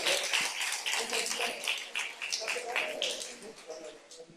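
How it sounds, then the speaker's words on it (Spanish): Church audience applauding during a worship service, a steady dense patter of many hands clapping throughout, fairly faint and roomy, with voices mixed in. "Denle un aplauso al Señor por esas bendiciones"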